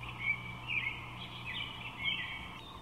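Recorded bird call played back from a birdsong identification app, a few soft repeated chirping phrases over a faint electronic hum, quiet and close.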